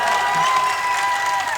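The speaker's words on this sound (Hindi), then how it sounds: "इस बात पर बजती है भाई साहब ताली?" A short burst of audience applause and cheering at a Hindi comedy poetry show (hasya kavi sammelan), dense and steady throughout, loud and close.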